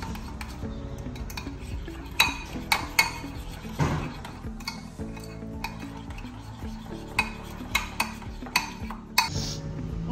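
A spoon stirs and scrapes through a sauce of black pepper and salt in a pot, giving repeated soft clinks and scraping taps at an uneven rhythm, close and moderately quiet.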